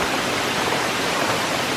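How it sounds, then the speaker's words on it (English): A waterfall pours down a long cliffside at Rock Island State Park in Tennessee, giving a loud, dense, unbroken roar of falling water close by. "The waterfall continues on this whole cliffside right here."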